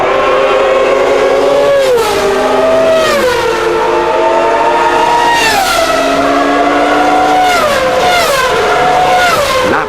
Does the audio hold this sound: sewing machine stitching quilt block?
no